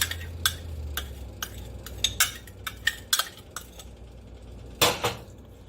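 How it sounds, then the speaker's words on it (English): A utensil stirring beef and broccoli stir fry in a pan, with sharp, irregular metallic scrapes and clinks against the pan. They sound close and come in clusters, then go quiet before one last loud knock near the end. "we're going to give it a stir"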